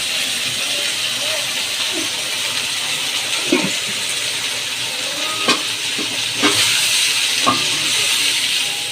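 Potatoes frying in hot oil, before bitter gourd is added, make a continuous hiss and sizzle with a few louder crackles and pops, close by, as quiet speech drifts under it.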